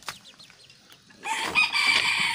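A red junglefowl hen clucks and cackles close by, quiet scratchy calls at first, then a louder, harsh burst of squawking.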